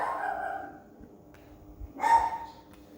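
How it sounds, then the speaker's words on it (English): A dog barks at a window, two short close barks with a quiet pause between them, the second louder. "Sorry for my dog."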